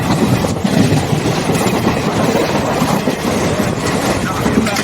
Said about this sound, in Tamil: இப்போ வாஞ்சி மணியாட்சி ரயில் நிலையத்தை கடந்து கொண்டிருக்கிறது நம்ம ரயில்.